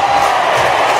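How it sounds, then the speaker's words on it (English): Crowd at a ball game clapping and cheering after a home run, a dense, steady wash of applause and voices filling the whole moment at fairly loud level. "Everybody's clapping about it."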